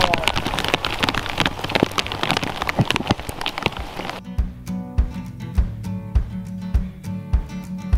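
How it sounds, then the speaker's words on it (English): Steady rain falls on a surface outdoors near a river while steelhead fishing, a dense close patter of drops that thins into sparser, distinct drips partway through, with no talk. "It's raining sideways again"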